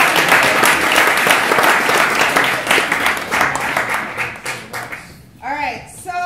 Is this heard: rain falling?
no